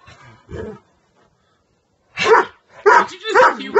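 Dogs barking in short bursts at close range, an opening yip followed after a pause by a cluster of three loud barks, with playful fuss around them.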